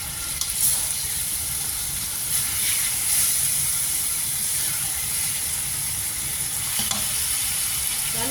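Steady, loud sizzling and hiss of chicken frying in a pan for spicy sayur lodeh, continuous throughout with faint stirring scrapes and no talk.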